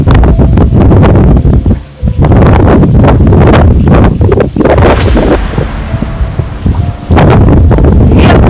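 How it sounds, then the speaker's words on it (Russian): A violent windstorm thrashes trees outdoors, with loud continuous roaring gusts, heavy leaf rustling and buffeting wind noise on the microphone, briefly easing before surging again. "тут ураган начался вовсю"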